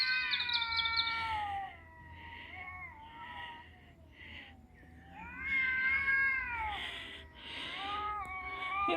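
Two cats caterwauling outdoors on an evening walk, trading long, wavering, rising and falling yowls at close range, with quieter pauses between louder drawn-out cries.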